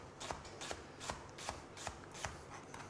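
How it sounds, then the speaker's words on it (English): Leek being shredded with a knife in a rocking, scissor-like motion, seven evenly spaced crisp cuts at a steady rhythm, close and fairly quiet with no talking. "Take your knife with a scissors action and shred it."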